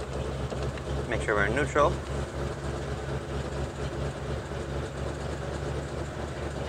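A 1948 Ford Super Deluxe with a flathead V8 idles with a steady low rumble, loud and close, while someone speaks briefly over it early on.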